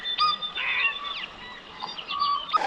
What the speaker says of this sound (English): It's an interesting sounding kiwi.